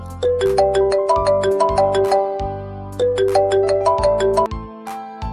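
A phone ringtone plays a bright, repeating chiming melody, loud and close, looping twice with no talking.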